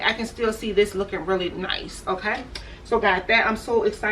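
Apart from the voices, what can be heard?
No distinct noise like a dog, phone or traffic.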